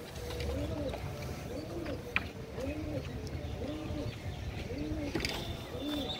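Soft, repeated pigeon coos in a steady rhythm over a low background rumble, with a few faint chirps and a sharp click midway.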